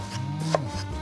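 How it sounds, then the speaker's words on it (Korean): Knife chopping blanched, squeezed napa cabbage on a cutting board for a seasoned side dish, a quick close cut with a soft thud, no talking. "요렇게 그냥 송송송 요렇게 썰어주시면 돼요"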